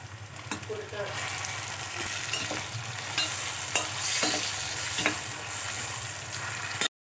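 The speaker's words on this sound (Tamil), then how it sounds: "வெங்காயம் நல்லா வதங்கட்டும். இப்போது தக்காளி ஆட் பண்ணிக்கலாம்." Onion with fennel seeds and bay leaf sautéing in a pan as tomato goes in for a karamani kuzhambu, a steady quiet sizzle with occasional light stirring scrapes, close and without talk, cutting off abruptly at the end.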